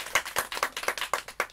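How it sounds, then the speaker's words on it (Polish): An audience claps in brisk, uneven bursts at a folk-style song and poetry performance, the applause close and lively for a moment with no voices over it. "Proszę, brawa,"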